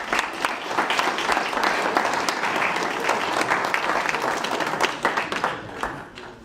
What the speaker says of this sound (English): Let's give a round of applause for our judges.